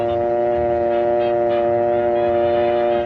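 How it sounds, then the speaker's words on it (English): Dial tone on an old rotary dial telephone with the receiver lifted: a steady, loud, unbroken hum of several layered pitches lasting the full three seconds. "Then remove the receiver and listen for the dial tone."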